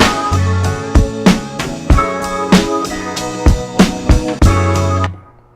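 A programmed drum sequence plays back from an Akai MPC Renaissance: punchy kicks and snares in a steady looping groove with a sustained bass tone, loud and clear with no voices, ending abruptly.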